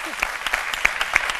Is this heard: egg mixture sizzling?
no